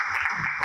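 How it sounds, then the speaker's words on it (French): Audience applause at a television finale, a short dense burst of clapping and cheering heard alone without talk. "On les applaudit."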